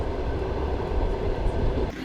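A train heard from on board or at close range, a loud steady low rumble and rolling hum that drops off slightly near the end; no voices.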